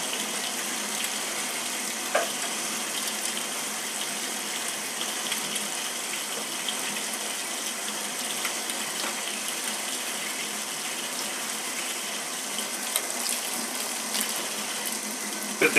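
Hot tap water runs steadily over a popcorn kettle's stirring mechanism, a constant close splashing hiss with faint clinks, no talking.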